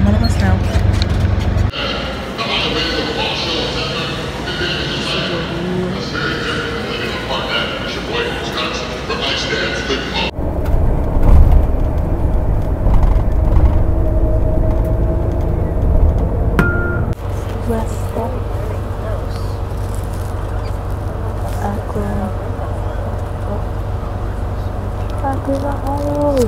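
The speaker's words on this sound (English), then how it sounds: "But I'm on a bus now." Ride inside an intercity bus: a continuous engine rumble and road noise fill the cabin, with small rattles and bumps, while someone talks over it.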